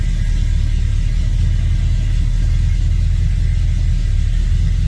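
Chevrolet S10 truck with a straight axle conversion and a new TCI transmission pulling away, a steady loud low engine rumble with constant road-vehicle drone throughout, no voices.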